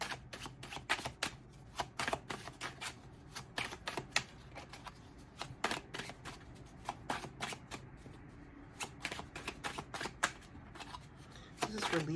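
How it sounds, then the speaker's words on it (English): Tarot cards from an oracle deck are shuffled and drawn in a quiet room, giving a steady run of crisp riffling snaps and slaps across the whole stretch, close and fairly soft, with occasional faint talk. "I'm just going to pull the tarot."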